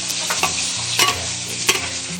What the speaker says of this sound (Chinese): 生姜放上去爆香